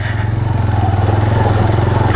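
A motorbike ridden on a rough, dry mountain track near Patlian Lake in Neelum Valley, its engine thumping in a steady, loud, close rhythm throughout, with no talk over it.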